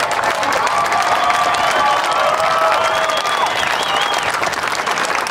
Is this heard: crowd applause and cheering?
yes